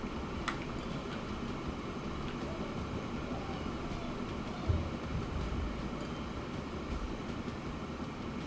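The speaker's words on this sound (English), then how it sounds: "There's the train. Let's let it come through, do its thing first." A train rumbling steadily through a station in the video game Transport Fever 2, a continuous low rolling drone with faint ticking and one brief thump midway, moderately loud and unbroken throughout.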